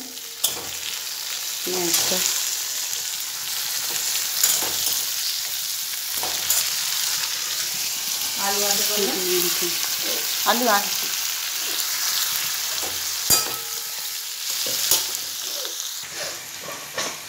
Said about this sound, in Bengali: মটনটা কষছে